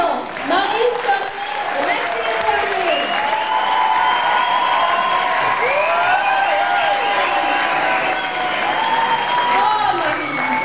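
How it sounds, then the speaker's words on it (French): Audience at the Carnaval des Ducs et Duchesses in the Îles-de-la-Madeleine applauds steadily and loudly for about ten seconds, a dense crowd clapping with a few cheers, while a voice speaks over a microphone. "Veuillez applaudir le duché de Mazan, Marie Scott."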